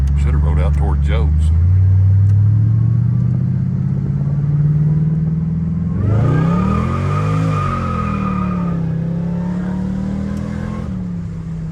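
A Pontiac GTO accelerates hard through first and second gear with traction control on, its engine note rising loudly, dropping at the shift, then climbing again up close, with voices heard over it.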